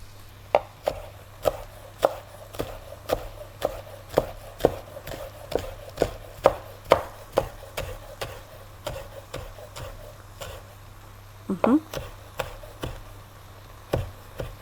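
A knife chops coriander, tomato and onion for nacho salsa on a cutting board, giving quick, regular close knocks throughout with a steady low hum underneath and no talk.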